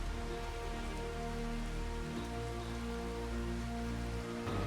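Steady rain in the video game Farming Simulator 25, a continuous hiss of drops on surfaces over a low, droning engine-like hum with tonal layers, no talking.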